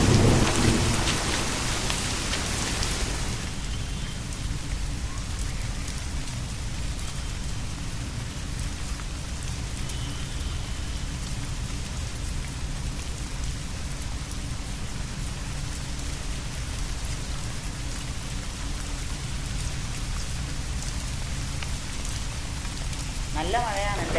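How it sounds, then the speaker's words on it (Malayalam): Heavy rain pours down in a steady roar, with a louder burst of thunder at the start and a constant wash of raindrops on surfaces throughout. "നല്ല മഴയാണല്ലേ, ഞാൻ ഇറങ്ങുവാ."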